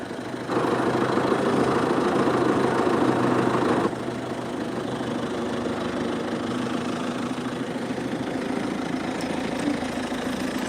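A tractor engine idles steadily with a low, chugging rumble at a road slab laying site, dropping slightly in loudness partway through and continuing evenly without voices.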